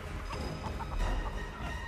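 A video game chicken clucks in a short run of soft, repeated clucks and bocks over a steady low background hum.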